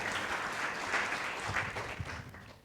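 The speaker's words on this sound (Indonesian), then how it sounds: "Yang setuju berikan tepuk tangan meriah buat Tuhan kita" An Indonesian church congregation gives lively applause during an online worship service, a continuous bed of many hands clapping, somewhat distant and steady before tapering off at the close.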